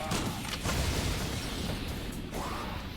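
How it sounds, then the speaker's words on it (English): Dense crackling pops and bursts of fireworks gun explosions in Yakuza: Dead Souls, loud and continuous across the whole stretch. "God, this fireworks gun is great."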